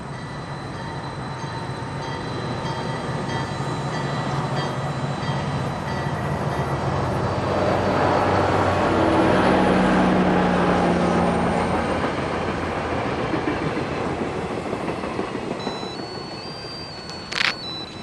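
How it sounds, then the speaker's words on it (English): A train rolls past, its rumble swelling to a peak at mid-passage and then fading, with steady rail noise throughout and a faint high ring near the end. "Now watching the train."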